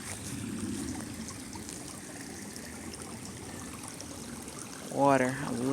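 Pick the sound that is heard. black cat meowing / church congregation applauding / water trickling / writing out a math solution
water trickling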